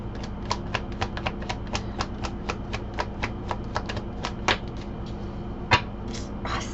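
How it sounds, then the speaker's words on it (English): Tarot cards being shuffled up close, a quick run of crisp riffling taps at a steady pace, fairly quiet over a soft background hum. "Makes it easier to shuffle."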